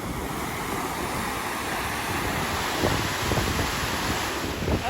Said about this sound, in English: here's that fast moving water